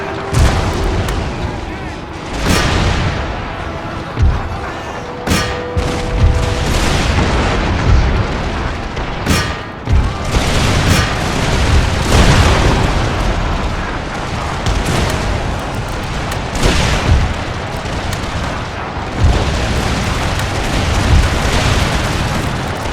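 Repeated cannon and howitzer artillery blasts from a large-scale battle in the PC strategy game Empire: Total War, booming steadily over a dense, continuous battlefield din, with a voice speaking over the barrage.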